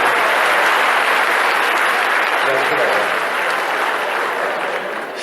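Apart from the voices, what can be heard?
audience applause at a concert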